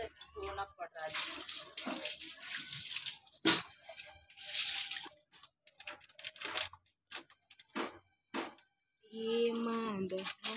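Water gushes and splashes in irregular bursts as clothes are washed by hand under a weak tap, with people talking between and over the splashing.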